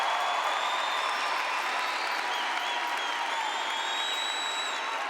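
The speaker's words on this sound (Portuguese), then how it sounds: "pode aplaudir, pode aplaudir" Audience applause at a Catholic celebration, a steady wash of many hands clapping that holds evenly for the whole stretch, with faint crowd murmur mixed underneath.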